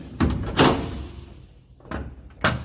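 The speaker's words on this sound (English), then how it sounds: "A full width rear door. And a roller drawer with a lid." On a full-width ute canopy, the rear door and a roller drawer with a lid are worked by hand. Several close, solid thuds and sliding clunks sound in a row, with short pauses between them.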